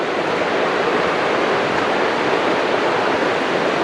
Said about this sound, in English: Little river. running alongside the entire time that you're hiking.